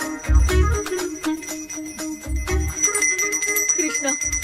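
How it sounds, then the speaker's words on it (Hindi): A small bell rings several times in quick bursts, fairly close and clear, with a faint tonal hum behind it and no clear talk. "मुझे जल्दी आओ बोल के यहाँ पर घंटी बजा रहे हो।"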